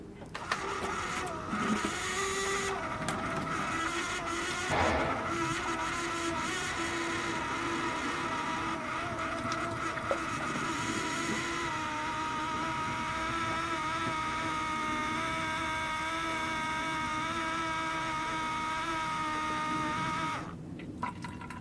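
The electric fuel pump of a 2002 Ford Excursion runs keyed on, a continuous buzzing whine nearly twenty seconds long with fuel rushing from the outlet into a clean container, then cutting off abruptly near the end.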